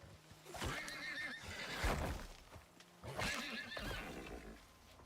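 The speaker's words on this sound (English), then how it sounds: "Hey, look, devil horse." Horse in the Icarus video game neighing twice in loud, shrill whinnies, with hoof clops mixed in close by.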